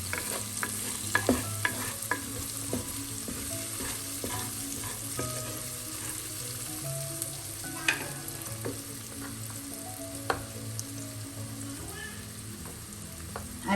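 Onions sautéing in a pan for a buffalo meat roast, a steady soft sizzle with scattered stirring scrapes and clinks, fairly quiet and close with no talking.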